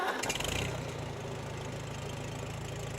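A 1942 Farmall Model H tractor engine turns over and settles into a steady, rhythmic mid-pitched running chug, close and moderately loud.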